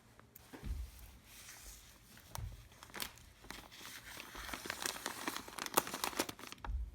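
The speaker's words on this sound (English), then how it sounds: "what I'm going to do is just cut open the top of the bag" Plastic soil bag crinkles and tears as its top is cut open for an indoor lettuce planter, a close, steady run of crackling rustles that grows denser and louder toward the end.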